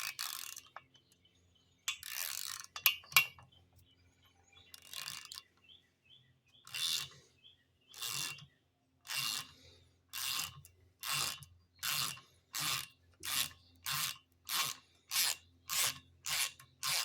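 Ratchet clicking in steady bursts as a socket with gripping pins works a broken exhaust stud loose, starting irregular and settling into a regular rapid rhythm of short, close, sharp clatters with brief pauses between strokes.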